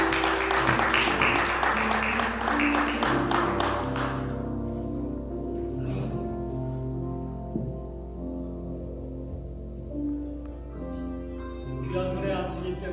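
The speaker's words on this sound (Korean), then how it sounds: "박수로 한번 함께" Congregation applause at a Korean Presbyterian pastor's ordination service in a New York church, a dense burst of clapping for about four seconds that gives way to sustained organ or keyboard tones, with a brief second swell of clapping near the end.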